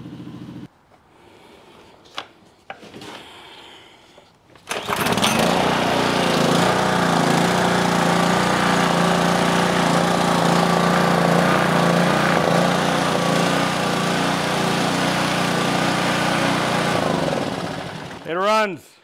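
A Subaru EA175V pressure washer engine, carburetor just repaired, starts after about five seconds of quiet handling noises and then runs loud and steady for around thirteen seconds before cutting off abruptly.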